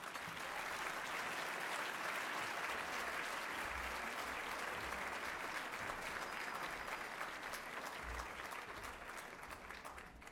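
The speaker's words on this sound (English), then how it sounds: "Let's give him a round of applause for his strong support and leading efforts on TPA" Sustained, even applause from a large audience at an awards dinner as Congressman Earl Blumenauer is welcomed to the stage, a dense continuous wash of clapping lasting the whole stretch, somewhat distant.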